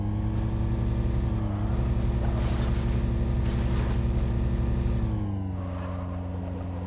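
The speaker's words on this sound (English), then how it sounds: "I'm just going to keep making the deep, bassy engine sound a little higher pitched." Modded vehicle engine in Halo 3 droning steadily with a deep, buzzy hum, shifting slightly in pitch partway through and continuing alone without talk.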